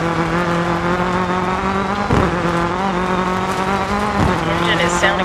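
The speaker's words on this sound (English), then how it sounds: "Engine is sounding a bit rough. We down on power." A rally car in DiRT 4, driven on a rainy, foggy stage with its engine running rough and down on power, gives a loud, steady droning engine note with gear shifts and bursts of tire noise, under a co-driver's calls.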